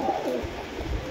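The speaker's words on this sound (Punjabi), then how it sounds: "ਇਹ ਦੇਖੋ ਕਿਸ ਤਰ੍ਹਾਂ ਕੱਸ ਮਾਰਦਾ ਕਬੂਤਰ" A Sialkoti pigeon coos close by, a soft low throaty warble over steady background hiss, heard alone without speech.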